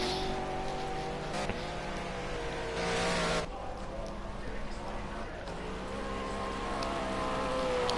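A silver McLaren GT3 race car on a flying qualifying lap, its engine revving and shifting steadily through the clip, with a commentator speaking over it.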